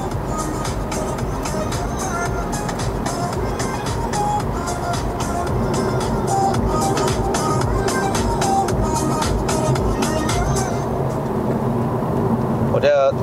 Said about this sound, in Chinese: 我们来试一下它的音响哦